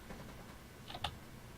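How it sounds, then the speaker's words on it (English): Quiet keyboard typing, a short run of soft key clicks with a couple of sharper taps, close and faint with no talk. "I'm gonna type out what I'm saying here"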